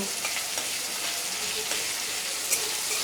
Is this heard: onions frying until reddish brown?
yes